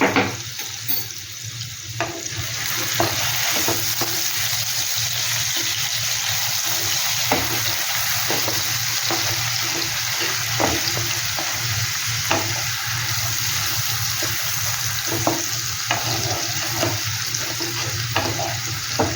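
Spice masala with a little sugar is stirred and fried in a pan for a traditional katla fish curry, a steady close sizzle broken by repeated scraping strokes of the spoon throughout, with no talking.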